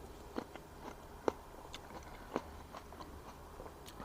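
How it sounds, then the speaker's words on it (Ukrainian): A ripe hybrid table grape is bitten and chewed, giving a few sharp crunches followed by softer, irregular chewing, close-up and fairly quiet. "хрустить, просто не передаваємо. Дуже хрум, хрустка така гібридна форма"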